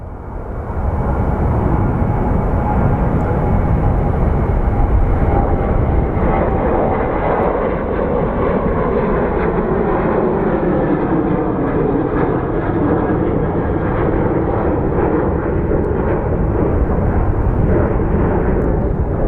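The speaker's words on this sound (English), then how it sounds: "we have another takeoff. Looks like it's a 737 again." Boeing 737 airliner taking off at Sky Harbor, a loud, sustained jet engine roar that holds steady throughout with a slowly shifting whine, heard alone without talk.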